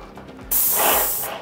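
Wagner Control 150 M airless paint sprayer firing a test pattern onto cardboard, a sudden loud steady hiss of atomized paint that lasts under a second and then cuts off.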